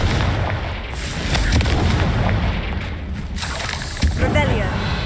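Fire spell blasts in the video game Hogwarts Legacy, a continuous rumbling barrage of booming explosions with sharper bursts near the end, loud and dense, with no talk over it.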